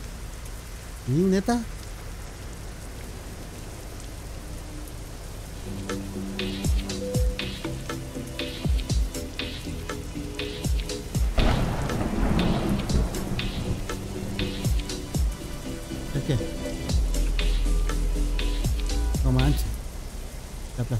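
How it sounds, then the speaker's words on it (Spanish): Steady heavy rain patters on a surface with low thunder rumbles swelling midway, heard in the American Truck Simulator game while people talk casually over it and some music-like tones play. "sigue lloviendo, loco. Más recio."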